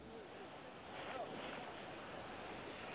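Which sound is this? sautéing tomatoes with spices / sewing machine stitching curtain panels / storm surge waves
storm surge waves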